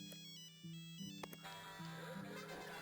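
A phone ringtone plays a looping electronic melody of repeated tones, quiet and steady throughout.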